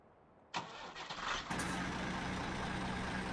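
A tractor engine in the farming game Farming Simulator 17 cranks briefly, then catches and settles into a steady, loud idling rumble that continues to the end, with no speech.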